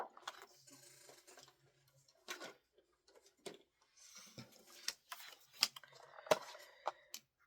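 A 12-inch paper trimmer cutting scrapbooking paper into 9x6-inch pieces makes quiet, sharp clicks and slicing ticks in irregular bursts, close by in a quiet room.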